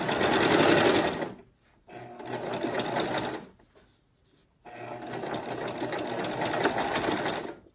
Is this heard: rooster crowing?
no